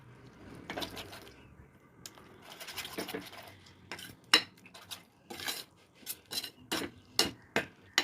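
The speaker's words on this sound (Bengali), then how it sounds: "টক দইটা দিয়ে এরকম করে ভালো করে নাড়তে হবে, যাতে করে দইটার সাথে ভালো করে মশলার মতো মিশে যায়।" A spoon clinks and scrapes in a pan as sour yogurt is stirred into frying spices. The strokes come close together and grow into sharper metallic knocks near the end, with only a faint background sizzle.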